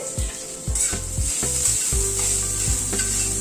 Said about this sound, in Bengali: নারকেল কোড়াটা একটু হালকা করে ফ্রাই করে নেব